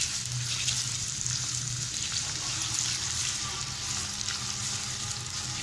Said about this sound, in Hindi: अब हम इसके अंदर प्याज ऐड कर देंगे और प्याज को हम फ्राई कर लेंगे अच्छे से।